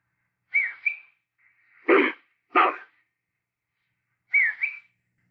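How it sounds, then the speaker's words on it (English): Whistles from a recording attributed to Sasquatch: two short rising-and-falling whistled calls in quiet, separated by two broad breathy bursts, with a final pair of whistle notes after a pause. "It was a whistle."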